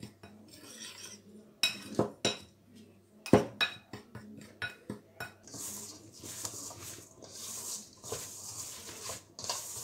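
A spice mix with flour for BBQ chicken legs is stirred in a bowl with a spoon, giving irregular metallic clinks and scrapes, sharp knocks early on and quicker rasping stirs later.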